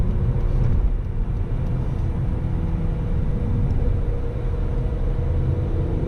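Inside a BMW E46 M3 with a manual gearbox on a highway exit ramp, a steady, fairly loud low engine and road drone fills the cabin without pause.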